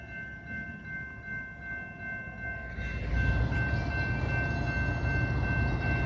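A train rumbles nearby with a steady low roar that grows louder partway through, while sustained horn-like tones hum underneath.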